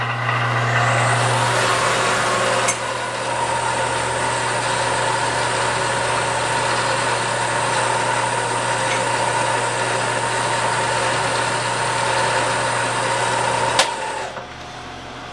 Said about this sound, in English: And now I'll drill them.